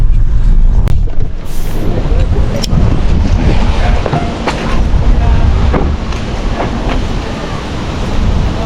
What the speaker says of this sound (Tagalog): Lakas na rin ng hangin.